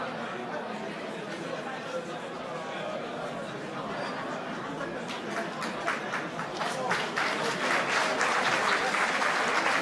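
Audience applause after a qualifying semi-final fight in the under-77 kg category, a dense, steady clapping crowd that swells louder and more crisp toward the end, with murmuring voices underneath.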